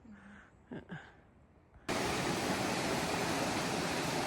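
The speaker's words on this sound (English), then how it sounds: "So we're at the waterfalls. So pretty." A waterfall's steady roar bursts in suddenly and holds loud and constant, with only faint quiet sounds before it.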